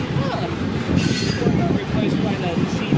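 A passenger train runs past, its rolling wheels and carriages making a steady loud rumble with a brief rise in metallic squeal, continuous over the whole stretch with no talk.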